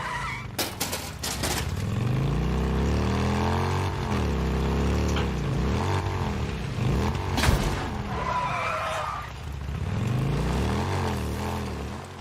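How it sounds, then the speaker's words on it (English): Motorcycle engine in the open-world zombie game Days Gone, loud rising and falling revs with sweeping pitch changes and a skidding screech, sustained for several seconds without speech. "the roar of your motorcycle adds a unique layer to this haunting open-world adventure"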